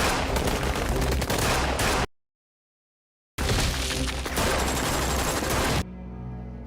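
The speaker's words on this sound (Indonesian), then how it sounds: "Raja dan kepolisian saling baku tembak." Dense bursts of rapid gunfire crackle loudly, cut by a sudden silence, then resume in a heavy barrage before fading to a low rumble.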